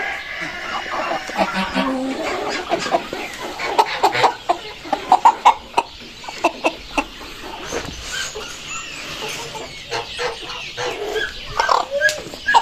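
Rooster and young broiler chickens cluck and crow in short, close bursts, loudest in the middle stretch, while a voice talks over the birds.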